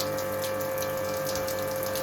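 Rainwater gushes down the wall of a Portuguese quinta during a heavy night storm, a constant loud rush of pouring water with a steady mechanical hum running beneath it.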